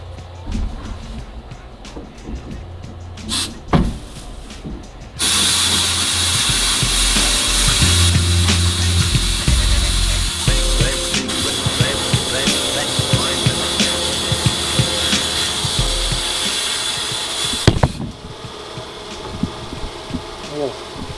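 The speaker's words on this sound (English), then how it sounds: "Let's get to doing some sandblasting." Sandblasting of classic muscle car chassis parts, made up of a loud, steady broadband hiss of abrasive blasting that runs continuously for about twelve seconds and then stops. Mechanical clunks and handling noises come before and after the blasting.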